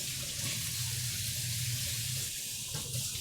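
Tap water runs steadily into a kitchen sink as a cutting board is rinsed beneath it, a continuous close splashing hiss lasting the whole moment with no talking.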